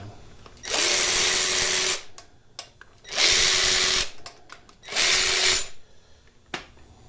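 A power tool, apparently an impact driver or drill, loosening bolts on a Chevy LS 5.3 V8 engine during teardown, whirring loudly in three bursts of about a second each with short quiet gaps between.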